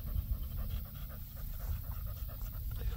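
An American Bully dog pants steadily and rapidly up close, a continuous breathy rhythm lasting the whole stretch with no talking.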